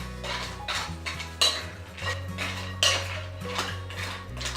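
A spoon scrapes and clinks against a bowl while nuts are tossed in a spice topping, giving irregular bright rattling strokes over a low musical backing, with no one talking.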